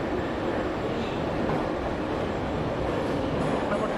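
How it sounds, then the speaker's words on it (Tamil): Tashkent metro train arriving at Gafur Gulyam station: a loud, continuous rumbling roar of the approaching underground train fills the platform throughout, steady and close. "கரெக்டாக ட்ரெயின் வருது"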